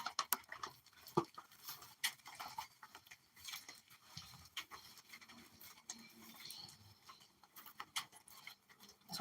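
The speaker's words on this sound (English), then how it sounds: "Go away, rain." Rain patters steadily around an outdoor cob-building site with chicken wire, a dense, irregular scatter of small drops and ticks close by, with no talking.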